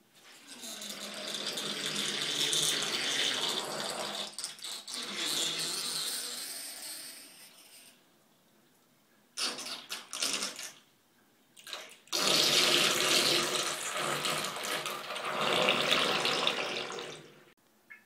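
Water drains out of a bathtub after the plug is pulled, swelling into loud gurgling, sucking bursts with short pauses and rattling breaks between them, close by and without voices.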